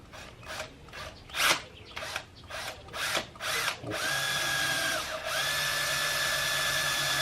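A power drill bores pilot holes in wood for a small coffee pod holder, with a series of short bursts followed by one long, steady whirring run, close and loud.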